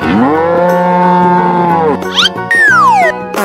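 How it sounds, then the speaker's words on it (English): A cow in an animal game lets out a loud, drawn-out moo, followed by a short springy boing and a falling cartoonish whistle-like effect. "Cow."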